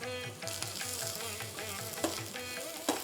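Onions sautéing in a pan for Tamil-style chilli idly, a steady close sizzle with a few louder stirring scrapes and clinks, no talking.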